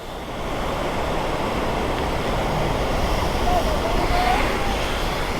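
A hidden waterfall in Charmadi Ghat during the monsoon roars as a broad, steady rush of water, with wind buffeting a helmet-mounted microphone.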